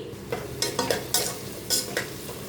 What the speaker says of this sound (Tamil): இதெல்லாம் நல்லா ஒரு நிமிஷம் வதங்கிருச்சு எண்ணெயிலேயே